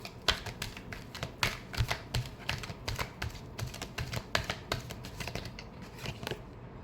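Tarot cards being shuffled by hand, a quick run of crisp papery flicks and taps in an irregular rhythm, close and fairly soft, continuing steadily with no voice over it.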